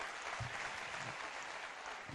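An audience claps loudly and steadily at a live motivational talk, a dense wash of many hands that fills the whole stretch without pause.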